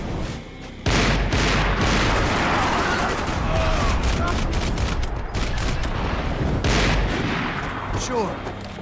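Gunfire in the video game Max Payne 3: a dense, continuous barrage of loud rapid shots and booming impacts lasting several seconds, with a voice speaking over it.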